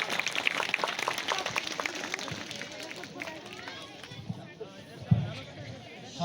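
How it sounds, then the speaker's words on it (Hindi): A school mushaira audience applauds at an annual function, dense clapping from a crowd that gradually thins, with faint murmuring voices underneath. "जोरदार तालियों से उनका इस्तकबाल कीजिए।"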